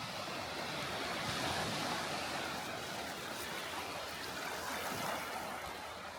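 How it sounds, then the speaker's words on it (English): Mediterranean Sea waves wash on a shoreline at Paphos, Cyprus, a steady, soft rushing surf with no distinct breaks, heard alone at a moderate distance. "standing on a shoreline and looking out into the blue Mediterranean Sea"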